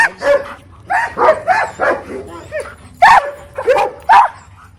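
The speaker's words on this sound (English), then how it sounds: "I brought some other dogs out just to show kind of how stimulated they get" Several stimulated dogs bark in repeated loud, close bursts with yips and whimpers mixed in, the barks coming in uneven clusters over a low steady background.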